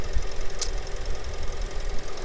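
A Honda Accord 2.4 i-VTEC petrol engine in an estate tourer, running at a steady idle with a low, even mechanical hum and light ticking, heard up close for a couple of seconds.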